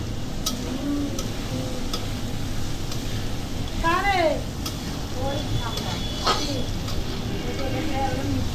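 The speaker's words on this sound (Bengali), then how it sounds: "ভালো করে একটু নাড়িয়ে চাড়িয়ে নিচ্ছি।" Mixed fried rice being stirred in a pan over steady frying hiss, with occasional faint taps and scrapes under a quiet background; no one speaks over it.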